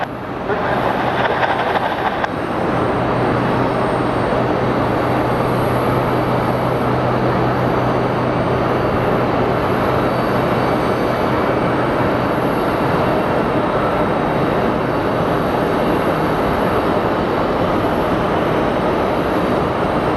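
A United airliner arriving from Newark on runway 26, still in traditional Continental livery, makes a loud, steady, broadband roar that holds for about twenty seconds, with a low hum underneath through the middle and no talking.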